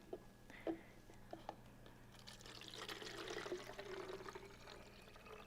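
One cup of water poured for homemade soap, a quiet trickling and splashing that builds into a steady pour after a few soft clinks and taps, with faint voices in the background.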